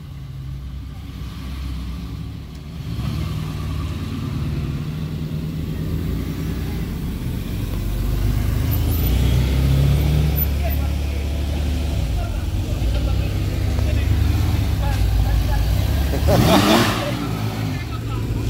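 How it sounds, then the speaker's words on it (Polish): A Mercedes car drives by, its engine rumble growing louder toward the middle and peaking near the end, with people talking over it throughout. "Tak, teraz jedzie Mercedes."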